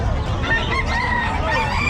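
A rooster crows nearby at a pet market in Bocaue, over a steady background din of other chickens clucking.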